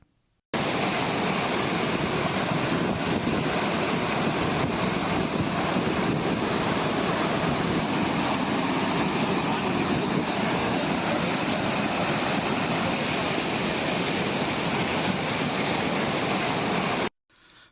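Floodwater rushes in a loud, steady roar across a national highway after heavy rain in Telangana, a continuous broadband torrent that fills the whole stretch without any talk.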